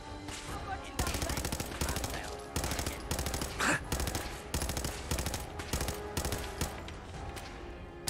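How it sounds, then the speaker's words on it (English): Gunfire in the video game Fallout 4: rapid bursts of automatic weapon fire, loud repeated volleys crackling nearly nonstop for several seconds. "Why am I getting shot at?"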